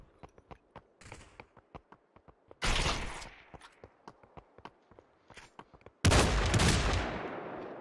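Footsteps patter steadily in the VR shooter Population: One, broken twice by loud, sustained bursts of gunfire that ring out and slowly fade.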